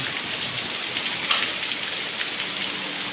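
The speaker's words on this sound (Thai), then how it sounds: "ฝนตกทั้งคืนทั้งวันเลยครับผม" Steady rain pours down, a dense continuous hiss with scattered drops tapping nearby surfaces, no voices.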